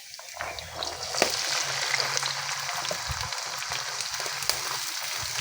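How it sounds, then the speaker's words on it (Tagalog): Boiled mung beans sautéed and stirred in a pan, giving a moderate sizzle broken by frequent scraping and tapping from a utensil. "Gisa-gisa lang natin. Halo-haloin."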